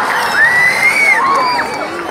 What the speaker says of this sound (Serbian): Ajmo još jednom aplauz za našeg Buđu